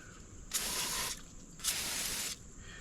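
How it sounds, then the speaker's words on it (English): Two bursts of blowing air, each over a second long, rush into an old 1961 Chevy Corvair engine that has sat parked for 54 years. The gusts are loud and close, with a short quiet gap between them. "So I'm gonna see if I can set up some kind of blower setup to try to clean this out"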